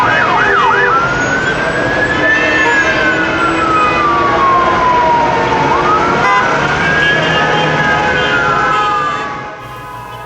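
An emergency siren wails and sweeps up and down through loud, continuous Cairo street traffic noise, holding steady for most of the stretch before the din drops off at the end.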